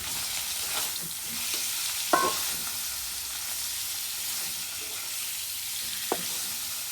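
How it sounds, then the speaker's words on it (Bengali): Tengra fish sizzle hard in hot oil in a wok: a dense, steady frying hiss with a couple of sharp spatters and pops that stand out against it. "এখন আমি মাছগুলা তেলেতে ছেড়ে দিলাম"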